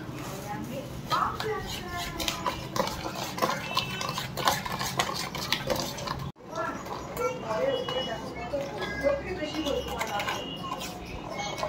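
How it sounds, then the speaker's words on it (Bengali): A spoon clinks and scrapes repeatedly against a container while sugar is stirred into milk, a quick irregular rattling rhythm close by, with a person talking throughout and a brief pause midway. "দুধটার মধ্যে মেলানো হবে, এর মধ্যে পুরো মিশিয়ে দেওয়া হবে এখন"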